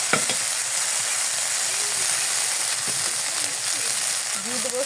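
A spice paste with ginger paste, made for a chickpea curry, sizzles steadily in a hot pan while being stirred and fried. A spoon scrapes and clicks now and then, and someone speaks softly over the cooking.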